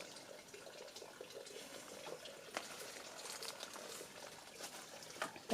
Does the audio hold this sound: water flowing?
yes